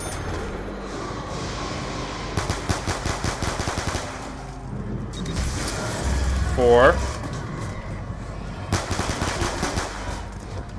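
Rapid automatic gunfire from the Call of Duty zombies map Mob of the Dead rattles in bursts amid game noise and effects, with players talking over the action throughout.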